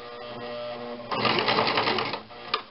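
Sewing machine stitching a narrow quarter-inch seam on a nun's veil: a brief low hum, then a short close burst of rapid needle stitching lasting about a second before it stops.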